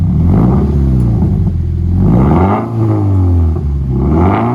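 A 2004 Subaru STI with a Tomei Ti titanium exhaust revs loudly nearby, its exhaust note rising and falling through repeated throttle blips with a deep rumbling tone.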